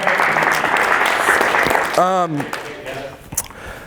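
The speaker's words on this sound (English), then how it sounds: "Round of applause for that guy, by the way." Applause for Dean Aguilar at a business talk fills the first two seconds as dense clapping, then gives way to a voice and quieter room noise.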